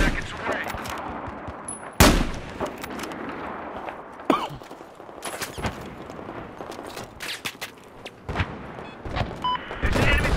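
Missile strike and surrounding battle in Battlefield 4: sharp impacts and bursts of gunfire, some loud and close, others farther off, scattered irregularly across ten seconds with radio-style voice chatter in between.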